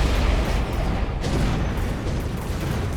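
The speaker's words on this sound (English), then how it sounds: "He actually takes out one of my guys with the ion cannon." Ion cannon blast in the strategy game Mechabellum, a heavy rumbling explosion with a continuous low roar and scattered bursts throughout, fairly distant and moderately loud.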